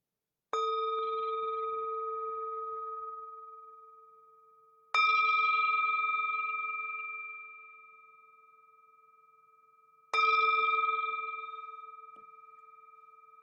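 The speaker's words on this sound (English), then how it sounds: "The sound of this beautiful bell returns us to our true home." Meditation bell struck three times at even intervals of about five seconds, each a clear, resonant tone that rings on and slowly fades in a quiet room.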